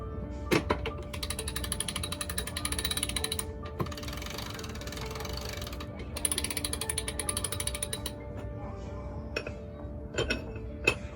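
A freshly oiled winch on a catamaran being cranked, giving bursts of rapid ratcheting clicks with pauses between turns, close and fairly loud, with faint metallic clinks.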